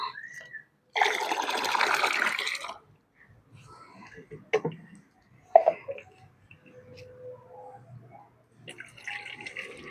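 Organic fertilizer powder mixed into water for spraying sloshes and splashes for a couple of seconds, followed by quieter swishing and a few drips, up close with no talking.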